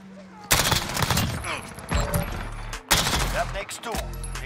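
Rapid bursts of automatic gunfire in the Modern Warfare video game, loud and close with short gaps between volleys, while a voice talks over the shooting.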